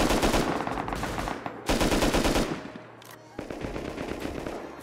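Dense, rapid automatic gunfire sounds in the video game Rust, with loud bursts close by, a short lull near the middle and then more sustained firing.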